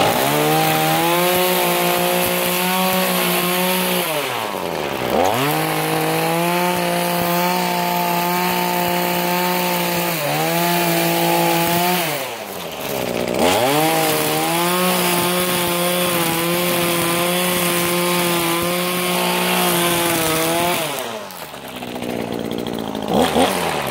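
A string trimmer engine whines loud and close, rising and falling in pitch as it revs and bogs down during cutting, with brief dips in between.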